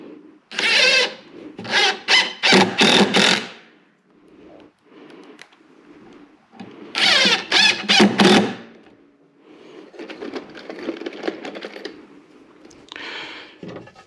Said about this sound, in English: So let me get these screws started so that I don't have any issues when I'm ready to hang these.